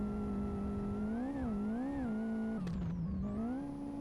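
Onboard a rallycross race car in Live for Speed, the engine holds a steady high drone, rising and falling with throttle, with a quick downshift blip midway before it climbs again.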